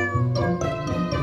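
A cartoon cat meows in a children's animated show, a short, loud, close mew repeated a few times in quick succession.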